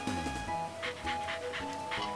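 Rhythmic dog panting from the Wii game WarioWare: Smooth Moves, a run of quick breathy puffs over game music with chiming tones, steady and fairly loud throughout.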